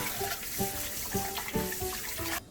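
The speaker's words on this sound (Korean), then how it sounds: "한번 씻어 놓았기 때문에 한 번만 이렇게 씻으면 돼." Crunchy green peppers are rinsed under running water, a steady splashing stream broken by repeated light knocks and rubbing as the peppers are handled, ending abruptly.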